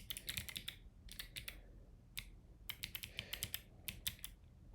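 Rapid bursts of computer keyboard typing in short uneven runs of clicky keystrokes, close and clear, with brief pauses between bursts and no talking.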